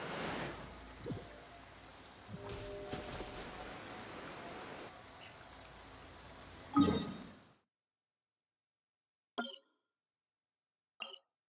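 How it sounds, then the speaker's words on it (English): Rain falls in the video game Genshin Impact as a steady, soft hiss with a few faint clicks. It swells briefly, then cuts off abruptly into silence, broken by two short, faint sounds. "Finally, the rain has stopped."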